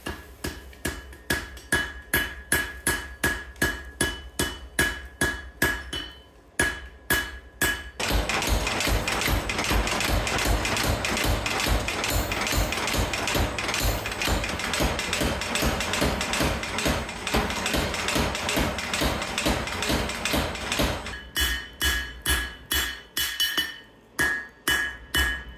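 Steel being forged and folded for a medieval dagger rings under a hammer: a rapid, steady series of loud, close metallic blows, opening and closing with spaced strikes and a dense run of quick hammering through the middle.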